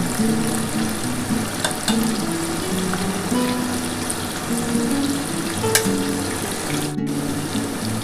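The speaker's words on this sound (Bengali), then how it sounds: "আলুটা কিন্তু দেখো লাল লাল করে ভাজা হয়ে গেছে" Potatoes fry in a pan for a vegetarian paneer, potato and capsicum curry, giving a steady, dense sizzle that runs the whole time with faint clinks and one short break near the end.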